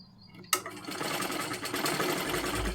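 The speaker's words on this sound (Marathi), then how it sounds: "इथे डबल शिलाई मारून घ्यायची आहे म्हणजे पूर्ण आपलं तिथे पॅक होऊन जाईल" A sewing machine starts abruptly and runs steadily, stitching a double seam on blouse piping with a continuous fast mechanical whir and needle chatter close by.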